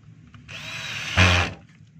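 A DeWalt D25032 rotary hammer, just fitted with a new brush holder, runs briefly as a test. Its motor whines for about a second, surges louder, then winds down in a quiet setting.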